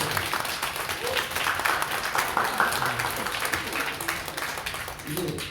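Church congregation applauding during a Sunday service to confirm an elder's installation, a steady wash of clapping that fills the whole stretch, with voices faintly mixed in beneath it.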